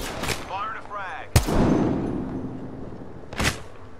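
Gunfire in the Apex Legends video game: two sharp, loud shots about two seconds apart, the first ringing out with a lingering tail, after a brief voice line at the start.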